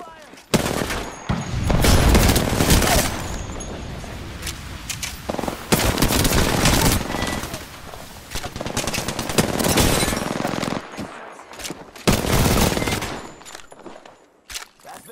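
Apex Legends gameplay with dense, loud bursts of automatic gunfire and rapid shots in sustained volleys, broken by brief lulls. Voices may be heard faintly beneath the fire.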